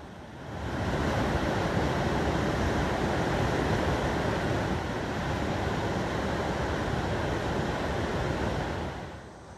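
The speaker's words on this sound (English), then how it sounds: "Violent and impressive after a storm." Water roars steadily over Williams Dam, a former hydroelectric dam in southern Indiana, after a storm. A dense, constant rushing wash fades in and then holds loud and unbroken, with no voices.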